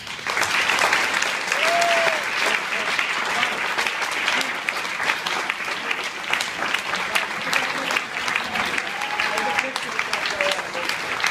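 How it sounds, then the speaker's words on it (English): An audience at a National Pancreas Foundation speech event in New York City breaks into sustained applause, a dense, even wash of clapping that carries on for the whole stretch with faint tonal sounds drifting through. "Let's give him a round of applause"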